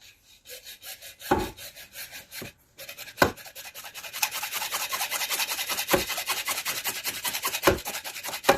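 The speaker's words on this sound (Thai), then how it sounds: "เราก็มาเลื่อยท่อ PVC ตรงก๊อกน้ำเราเลย เลื่อยออก" A hand saw rasps steadily through PVC water pipe, starting with a few hesitant strokes and then settling into fast, even back-and-forth cutting, close and alone.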